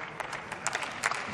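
Applause in the German Bundestag during a debate on extending the Bundeswehr deployment in South Sudan, a brief burst of broadband clapping from the chamber, moderately loud and uneven, swelling slightly toward the end.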